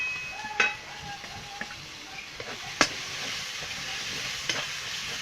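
Ginger, cumin, coriander and dried chili pastes fry in a pan for a goat head dish, with a steady low sizzle broken by scattered sharp scrapes and knocks of stirring.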